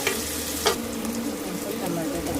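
Onion sautéing in a pan until it changes colour, a loud, dense close-up sizzle with a few stirring scrapes and knocks over a couple of seconds, without speech.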